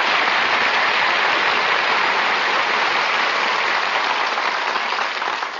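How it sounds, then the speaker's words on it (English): Studio audience applause on an old-time radio comedy show greets a guest star, a dense, steady wash of clapping held loud throughout before thinning slightly at the end, with no voices over it. "Who's applauding you?"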